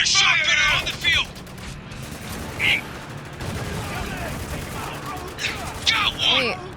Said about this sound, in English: Man is just shooting at me.